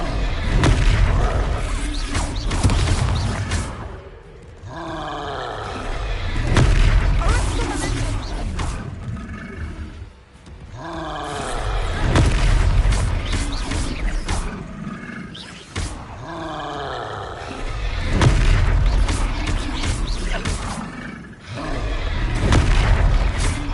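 Hogwarts Legacy spell combat: loud, repeated booming impacts and crashing magical blasts in waves of roughly five seconds, with rumbling swells and brief dips between bursts, dense and full throughout.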